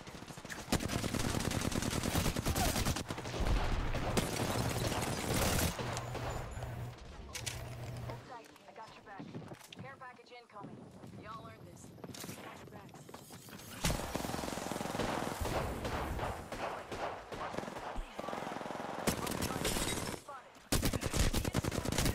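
Automatic weapons fire in a heated Apex Legends crossplay match, with rapid bursts and sustained sprays of close gunshots broken by short pauses, while players talk over the shooting.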